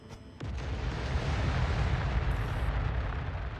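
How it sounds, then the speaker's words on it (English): Missiles launch in a video game with a sudden whooshing burst that swells into a sustained, loud roaring rumble of rocket exhaust and explosions, close and continuous. "firing missiles now"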